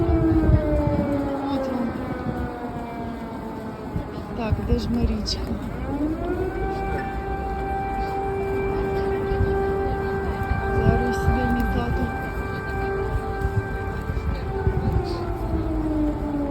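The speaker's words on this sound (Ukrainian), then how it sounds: "повітряна тривога" A wailing air raid siren drones loud and steady in Kyiv, its pitch dipping then rising and holding, while people talk nearby under the blare.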